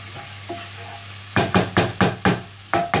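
Aubergine slices frying in a pan for a vegan Moroccan-style tagine: a soft steady sizzle, then six loud, rhythmic scraping knocks from turning them over, close up and without talk.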